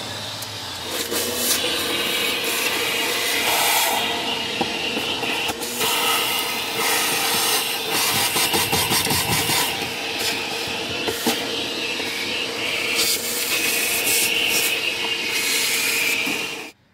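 Vacuum cleaner working through a Ford Edge interior full of dog hair, a loud steady roar with changing suction and rattling from the nozzle as it moves, close throughout until it cuts off at the end.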